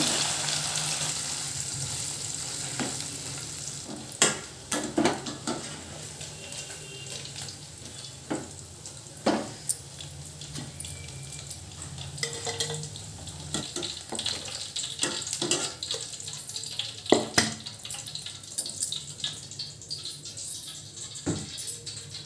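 Paneer frying in a kadhai, a faint, steady sizzle with scattered clinks and sharp knocks over about twenty seconds, with some background kitchen noise and no voices.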